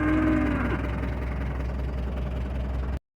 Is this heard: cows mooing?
yes